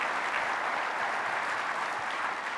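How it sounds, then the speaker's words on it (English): An audience applauds steadily, a dense, even clatter of many hands clapping throughout with no voices over it. "So let's give Brad a big round of applause."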